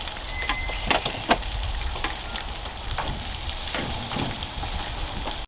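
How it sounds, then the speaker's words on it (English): Bacon frying in a pan as the strips are flipped, a steady close crackling sizzle broken by a few clattering knocks and scrapes of the utensil against the pan. "So I'm just flipping the bacon."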